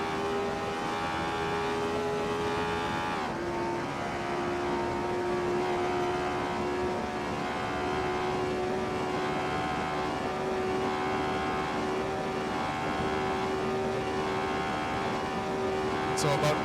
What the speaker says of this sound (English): let me just shut up for a minute and see what kind of top speed we get and let you listen to the engine